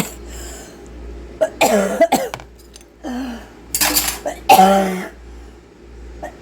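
Several short bursts of harsh coughing from dehydrated food dust come in clusters, close by, with faint clinks of kitchen utensils in a quiet room.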